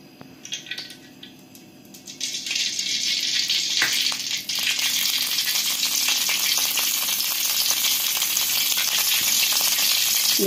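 Cooking oil heats in a kadai for cabbage curry, starting with quiet clinks and scrapes before a dense, loud sizzle builds and holds steadily for the rest of the clip.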